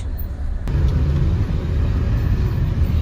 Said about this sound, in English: Tehran traffic, as usual, is testing my patience.